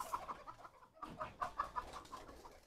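A rooster gives a quick series of soft, rhythmic clucks, faint and somewhat distant, with a brief gap partway through and no talking.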